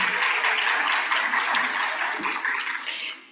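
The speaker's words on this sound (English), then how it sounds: "please give yourself another round of applause for making this community so welcoming and wonderful" A conference audience at a closing plenary applauds, a dense, even roar of many hands clapping that holds steady for several seconds and fades slightly at the end.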